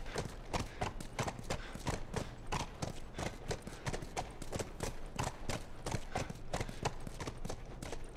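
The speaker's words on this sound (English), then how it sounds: "Stay with the horse." Rapid, steady hoofbeats clatter close by as a horse trots along in the video game The Last of Us, a continuous clip-clop rhythm with no talk.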